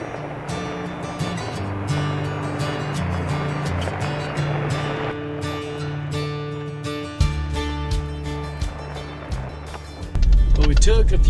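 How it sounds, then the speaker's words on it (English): An overland vehicle rumbles steadily along a washboard gravel road in Idaho, a continuous loud rattling drone with a sharper jolt near the end. "right now we're just on a nice little gravel road and making our way west to east overland route"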